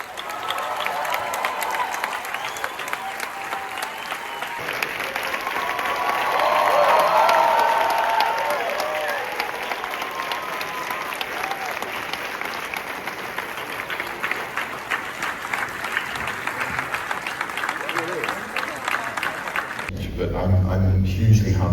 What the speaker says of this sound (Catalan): Fort aplaudiment, sisplau, per a Benedict Cumberbatch.